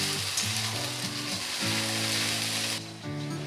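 Ginger, garlic and onion paste sizzles loudly and steadily in a hot pan, a dense continuous hiss with music playing underneath.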